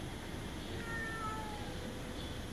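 A cat meows faintly indoors, a couple of soft, thin cries rising over a steady background hiss, with no talking.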